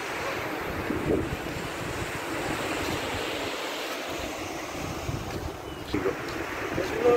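Sea waves wash onto White Beach in a steady rushing roar mixed with wind buffeting the microphone, fairly close and continuous, without talk.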